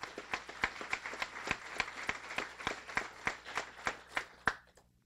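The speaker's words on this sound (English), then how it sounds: "Lynn and Jonathan Lamphere, please, a round of applause for you." An audience at a guide dog school graduation claps in a steady, even rhythm, about three claps per second, fairly close, then stopping abruptly.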